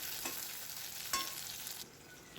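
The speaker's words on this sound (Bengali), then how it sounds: "তাতে আমি মশলাটা দেবো, টমেটো, আদা কুচি আর লঙ্কা দিয়ে ভালো করে এটা ভাজা ভাজা করে নেব" Spices, chopped tomato, ginger and chilli fry in a wok, a soft continuous sizzle broken by a few scraping stirs, quiet and close with no talking.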